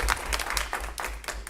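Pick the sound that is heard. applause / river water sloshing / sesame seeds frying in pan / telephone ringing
applause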